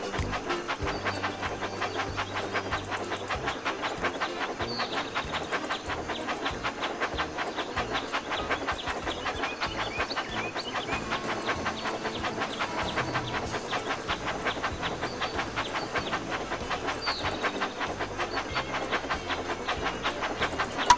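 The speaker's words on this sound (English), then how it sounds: "Look how wonderful your train set is." A Thomas and Friends toy train set runs steadily along its track, a faint, continuous mechanical whir and rattle with a soft hiss and no talking.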